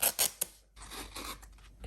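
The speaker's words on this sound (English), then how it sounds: "So I'll just cut a strip." Scissors snipping a strip of paper, several quick close crisp cuts at the start followed by softer rustling and slicing, fairly quiet with no talk.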